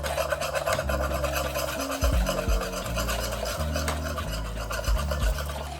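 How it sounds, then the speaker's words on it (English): Warm milk being whisked into a roux in a pan gives a steady, close scraping and rasping of the whisk against the pan, continuous and fairly soft, with low hum underneath and no talk. "I've got some warm milk that I'm gonna gradually add and whisk in"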